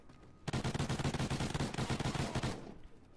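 Rapid automatic gunfire in a video game rattles out in one loud, dense burst of about two seconds, each shot tightly packed against the next, then drops to quiet.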